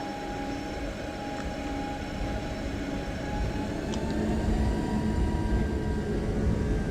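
A British Airways Boeing 777-300 accelerates down the runway on its takeoff roll, a steady, loud engine roar and rumble swelling gradually, heard from inside the cabin with no talking.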